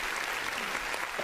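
An audience at a talk applauds, a short burst of dense clapping from a crowd, fairly close and steady, with no voice over it.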